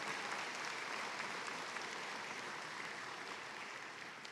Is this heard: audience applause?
yes